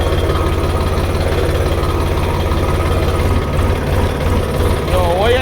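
A tractor engine runs loud and steady close by, its low rumbling drone holding firm throughout with slight rises in revs and no voices over it.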